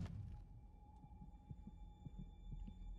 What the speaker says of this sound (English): You can hear their heartbeats.